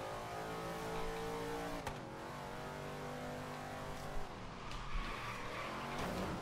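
A race car engine drones steadily in Forza Horizon 3 on a Hot Wheels track, its pitch climbing and dropping with shifts and brief tire squeals through banked curves, loud and continuous with no voices.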